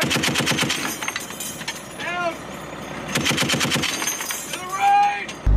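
U.S. Marines fire a machine gun from a convoy in rapid, loud bursts of sharp reports, with pauses between bursts and shouted voices heard in between.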